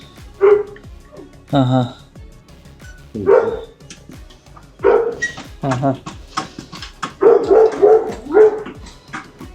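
A dog barks in repeated bursts, some close and loud and some yelping, scattered across the stretch while a person talks briefly in between.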